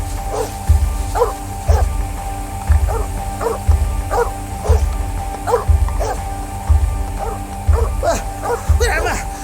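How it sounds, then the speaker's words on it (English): Dog barking repeatedly as a sound effect in a stage-style radio play adaptation of The 39 Steps, steady rhythmic barks about once a second over a low rumble, with a few higher yips near the end. "It would have been all right, but for that infernal dog."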